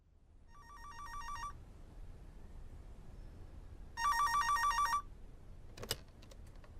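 A telephone rings for a long-distance call: two electronic trilling bursts, each about a second long, separated by a pause, moderately loud over faint background hiss, followed by a brief clatter.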